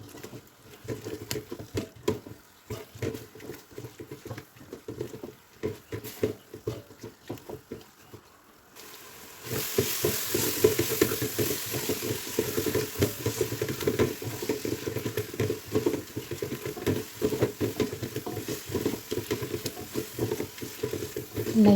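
Mutton with chili powder and spices crackles and patters in a hot pan, with intermittent stirring at first, then a steadier, louder sizzle for the rest.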